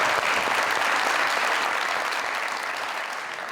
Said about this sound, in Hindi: फैसल के लिए ताली।